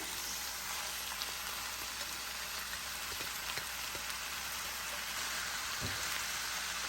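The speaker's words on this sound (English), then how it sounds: "Now what I'm going to do is place the sauerkraut into the same pan." Sauerkraut dropped into a hot pan with garlic, giving a steady, close, crackling sizzle that holds evenly throughout with a few faint pops and no talking.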